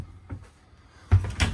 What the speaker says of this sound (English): three self-closed drawers